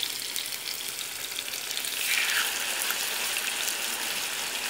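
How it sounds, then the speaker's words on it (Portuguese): Potatoes, beef and chicken fry in plenty of oil in a pan, giving a dense, steady crackling sizzle that swells slightly partway through, close and continuous with no talking. "Cortei duas batatinhas e coloquei aí para fritar junto com a carne, com o frango."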